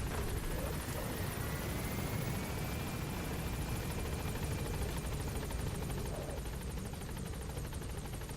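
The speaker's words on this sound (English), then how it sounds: "That helicopter is already off." Helicopter rotors and engine drone in Metal Gear Solid V: The Phantom Pain, a continuous, steady whir with a faint high whine that fills the whole stretch without talk.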